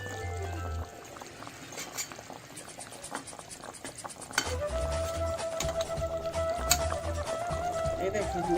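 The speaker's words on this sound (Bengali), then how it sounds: "ভাজা মাছ দিয়ে অল্প একটু ফুটাই নেবো হয়ে যাবে" Fried fish is added to a simmering curry in a pan, and the curry bubbles and boils steadily with faint stirring and pan clinks, under a voice talking.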